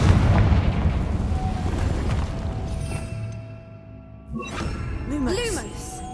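A Confringo blasting spell explodes in Hogwarts Legacy, a booming burst over game music and ambience, followed by softer magical crackles and whooshes near the end.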